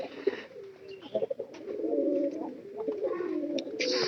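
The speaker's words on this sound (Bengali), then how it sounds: "দেখেন যেগুলো পায়রা ওগুলো কিন্তু ডাক সবচেয়ে বেশি ডাকতেছে" Male pigeons cooing inside a cage, a near, continuous run of deep warbling coos with short clicks and shuffles between them.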